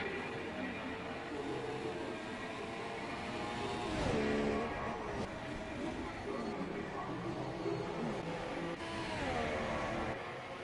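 Race cars circle the Singapore street circuit in an F1 video game, engine whines rising and falling in steady waves under a commentator's continuous talk.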